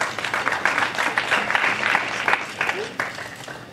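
A crowd at a boxing press conference at the MGM Grand in Las Vegas applauds boxer Nathan Cleverly, producing a dense, steady wash of clapping with some cheering mixed in, loud and sustained throughout.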